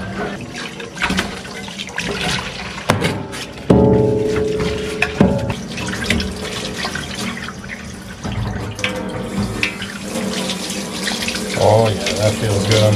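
Hot water runs steadily from a campground washroom sink tap while dishes are washed, with splashing and clinks over a continuous gush for about thirteen seconds.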